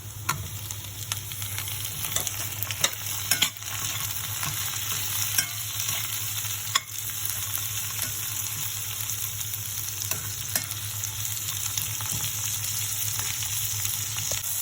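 Chopped tomatoes go into golden-browned onions frying in a pan, giving a strong steady sizzle with spoon stirring and scraping, close up and continuous, no voices.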